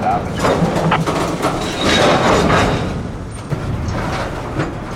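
A Florida Central freight train being switched in a rail yard, a steady nearby rumble of rolling cars with faint clanks and squeaks throughout.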